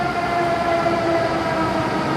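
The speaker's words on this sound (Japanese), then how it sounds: "疲労感がすごいので、帰りも新幹線で帰ることにしました。" Interior of a Shinkansen bullet train riding at speed, a loud, steady rumbling roar with a sustained tonal hum running through it, no voices.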